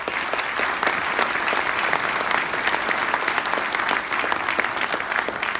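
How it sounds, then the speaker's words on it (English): Dense, steady applause from the audience at Mayor Ganim's 2019 State of the City address, loud and continuous throughout with no break. "give them a round of applause."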